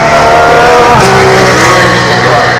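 Race cars climbing the hill at the Goodwood Festival of Speed, a loud nearby engine scream with rising and falling harmonics as a car accelerates past, crowd noise faint beneath.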